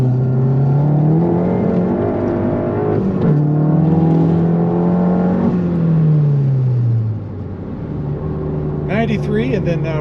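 A car with a Baun Performance exhaust accelerates hard with a loud, close engine drone that rises in pitch through the gears. It eases off near the end, and a voice speaks over it at times.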